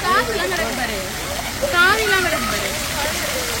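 Water pouring from a fish's mouth on a cupid fountain in a European town, a steady rushing splash throughout, with a voice talking over it.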